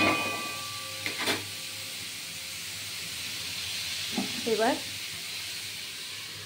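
Papaya with salt and turmeric fries slowly over low heat, producing a soft, continuous hiss, with a few clinks and a brief voice speaking over it.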